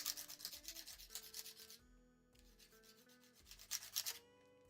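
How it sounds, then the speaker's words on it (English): Quiet, rhythmic scraping strokes as sharp edges are ground down against a plate, coming in repeated bursts with a brief lull in the middle. "Just kind of grind them down so they don't have a sharp edge."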